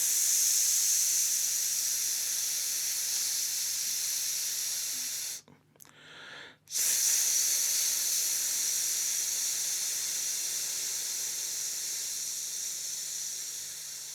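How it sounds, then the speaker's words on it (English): A long, steady hissing exhale from a singing breathing exercise runs unbroken and close, stops briefly for a quick breath in, then resumes just as evenly. "Let's do a variation of this hiss exercise."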